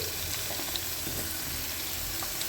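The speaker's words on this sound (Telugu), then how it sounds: "పచ్చిమిర్చి కట్ చేసుకోవాలి నూనె వేసుకొని నూనె వేడైన తర్వాత వేయించుకోవాలి ఫ్రై ఫ్రై చేసుకోవాలి" Chopped green chillies fry in hot oil in a pan over a medium flame, giving a steady, even sizzle and crackle throughout with no talking.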